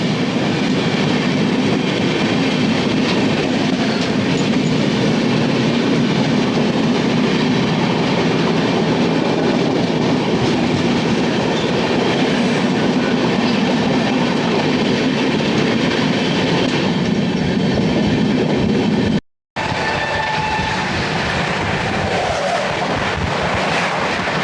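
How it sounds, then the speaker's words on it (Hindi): Dehradun–Subedarganj Express 14114 rolls past during a crossing, a loud, steady broadband rumble of wheels and carriages filling the whole stretch, with a brief gap near the end before the rushing noise resumes. "कुछ ही देर में अपनी क्रॉसिंग होगी 14114 देहरादून सुबेदारगंज एक्सप्रेस के साथ"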